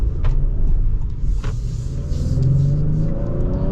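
A 2026 Honda Passport or Toyota Land Cruiser pulls away from a stop after waiting for traffic, its engine rumbling and rising steadily in pitch as it accelerates, heard from inside the cabin over a dense low road and motor drone.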